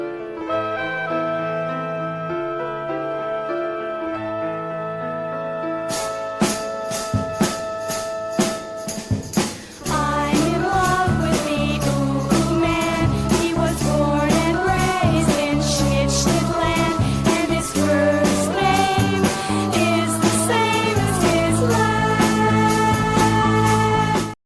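Music by a late-1960s all-girl group from the Los Angeles area plays loudly: a sparse opening of held tones, then full band rhythm with dense percussion kicks in and drives on.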